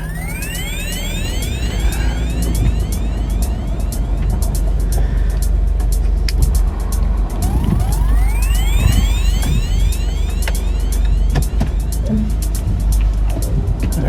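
A 2006 Mitsubishi Endeavor engine runs with a steady, loud rumble for the whole stretch, with high squeaky chirps repeating over it outdoors.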